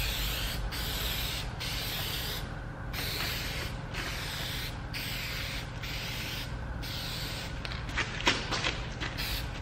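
Hyperdip gloss black is sprayed onto the side mirrors of a Mercedes C-Class in repeated short aerosol bursts, close and hissing, with brief pauses between passes.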